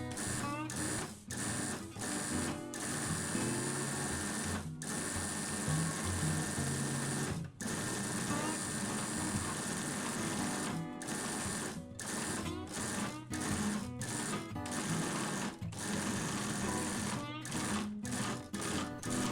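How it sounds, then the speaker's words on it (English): A stand mixer kneads apple pie pastry dough, its motor running in a steady mechanical hum broken by repeated brief pauses and thumps. A voice talks over it. "Once the pastry begins riding around the mixer, it's done."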